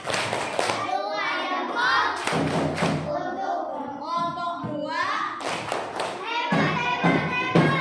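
A class of schoolchildren in Indonesia performs a rhythmic clapping cheer, sharp hand claps and thumps in patterned bursts between children's chanting voices, close and lively.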